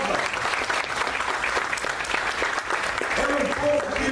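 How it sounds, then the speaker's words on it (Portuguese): A church congregation applauds together during a Portuguese-language sermon, a dense continuous burst of clapping with voices and shouts mixed in, loud and close throughout. "Aplauda o nome do Senhor Jesus."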